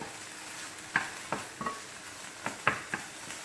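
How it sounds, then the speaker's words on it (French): Curry chicken pizza topping gets stirred in a pan: quiet background sizzle broken by several sharp utensil scrapes and taps against the metal, spaced irregularly, with no talking. "On continue de mélanger"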